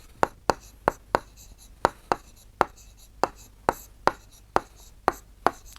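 Chalk writing on a board during a class 7 geometry lesson about measuring an angle, heard as a close series of sharp, evenly spaced taps and strokes with quiet gaps between.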